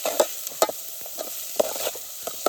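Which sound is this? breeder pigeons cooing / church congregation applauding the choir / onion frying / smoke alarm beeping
onion frying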